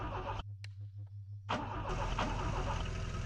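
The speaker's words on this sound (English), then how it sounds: "Engine on." A car engine in the driving game The Long Drive cranks with a rhythmic starter whir, then catches and roars into a loud, steady run, alone without talk.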